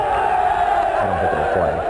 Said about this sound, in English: we're supposed to have thousands of extras throwing their fists and cheering